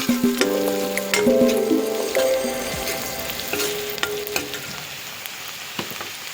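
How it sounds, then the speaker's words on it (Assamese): Turmeric and vegetable masala spices fry in a pan, a steady close sizzle with occasional scrapes and clinks of stirring. "মছলাখিনি এনেদৰে ভালধৰণে ভাজি"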